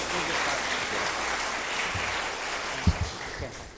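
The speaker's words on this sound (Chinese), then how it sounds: "我们要用热烈的掌声拍手欢迎" A church congregation applauding to welcome Pastor Liao at a Sunday service, scattered clapping blended with murmuring voices, moderately loud and fairly even, with a few sharp thumps near the end.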